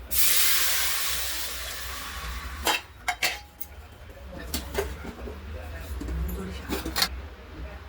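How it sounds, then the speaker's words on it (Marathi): Water poured into a pan of fried crushed garlic sets off a loud sizzling hiss that fades over a couple of seconds, followed by scattered metallic clinks of a pan and utensils. "आता हे पाणी याच्यामध्ये मी घालून घेते"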